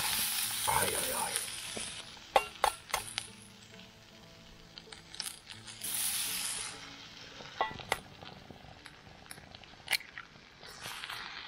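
Food sizzles and fries in a pan outdoors at a bushcraft camp, crackling in bursts with sharp pops and clicks of stirring, fairly close, with quiet gaps between the louder spells.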